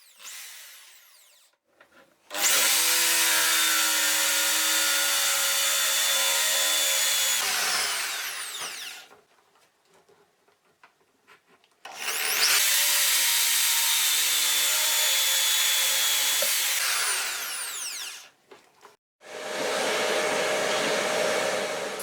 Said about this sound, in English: and I drill the round mortise